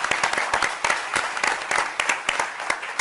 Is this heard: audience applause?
yes